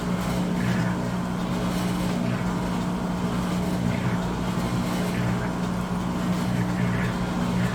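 Amana washing machine drum spinning during a diagnostic test, a steady loud motor hum and whir with a strong low tone that holds throughout without pause.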